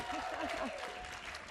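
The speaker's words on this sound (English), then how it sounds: "Let's give her a round of applause." Audience applause in a conference hall during a plenary session, a brief, fairly faint wash of clapping with a few voices murmuring over it.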